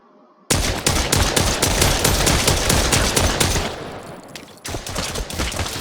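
Rapid automatic gunfire in the VR shooter Contractors VR, a dense burst of shots for about three seconds that tapers off, then resumes after a short gap.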